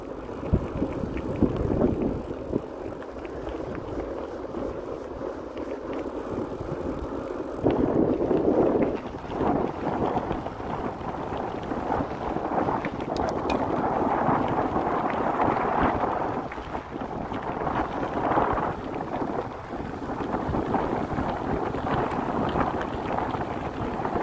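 A bicycle labours up a steep paved road in Canyonlands National Park, Utah, with heavy wind buffeting the microphone in a constant low roar that swells and fades throughout, and no talking.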